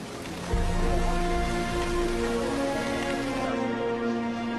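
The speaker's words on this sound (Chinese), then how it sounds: "在热带，雨水连绵不断。" Continuous tropical rain in a jungle setting, a steady wash of pattering hiss with a low rumble beneath, constant and fairly close throughout with no voices.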